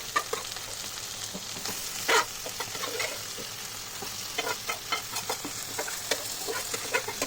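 Boiled beef lungs frying in a pan with black pepper, a soft continuous sizzle broken by frequent scraping clicks of stirring, one sharper clatter early on, and no voices.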